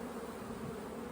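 Honey bees buzz in a small hive in a bee yard, a dense, steady hum held close and even through a very short stretch, with no voices.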